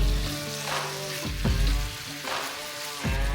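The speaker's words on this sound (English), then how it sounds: "all we're going to do is grab our wild boar and get that cooking" Ground wild boar frying in a hot skillet on a side burner, a steady, close, loud sizzle with crackling spatter that swells and eases in slow waves, no voices.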